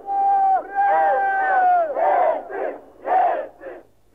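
Crowd of Muscovites marching toward the Russian Parliament, chanting in loud rhythmic unison with several sustained shouted calls and short bursts, close and clear.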